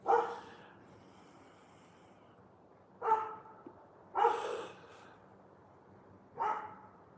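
A dog gives four separate barks spaced a few seconds apart indoors, moderately close, with quiet breathing between them.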